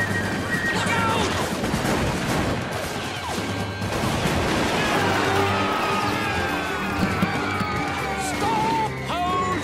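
Musket gunfire in an animated Revolutionary War scene, a ragged volley of shots with crashes and commotion, loud and dense under shouting voices and a running crowd.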